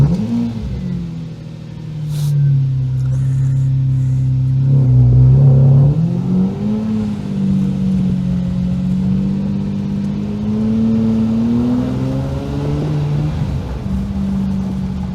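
A car driven along a street in Karachi, its engine droning steadily and revving up and down in a continuous close, loud hum with no talk over it.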